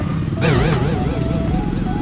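A Nwow electric scooter motor running on its stock lead-acid battery revs up and down, a loud close whine with wavering pitch that rises and falls in quick surges, while a voice briefly speaks underneath.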